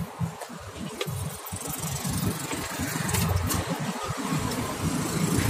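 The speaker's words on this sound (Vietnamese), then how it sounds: "Đây em nổ máy lên cho các bác xem." A 2017 Ford Ranger XL diesel engine turns over and settles into a steady, rumbling idle, heard close up and alone, its low throb growing slightly louder toward the end.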